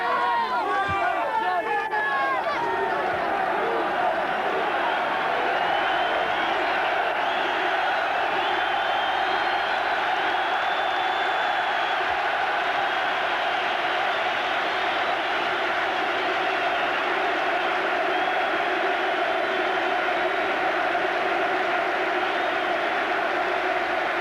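A sellout football stadium crowd of 37,000 Geordies roaring at Newcastle United, a loud continuous wash of cheering and chanting that never lets up, with a tonal swell of voices and a commentator's voice over it.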